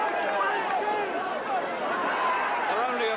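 Cheering British fans at a boxing bout in a Mexican ballroom, a continuous hubbub of shouting and crowd voices at steady volume.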